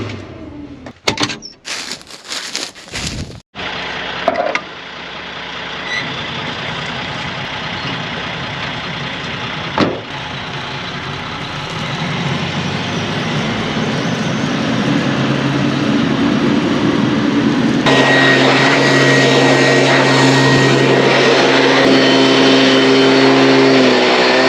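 A truck arrives after some door and handling clatter, its engine starting up and settling into a loud, steady idle with a rising rumble and tonal hum, and no voices heard.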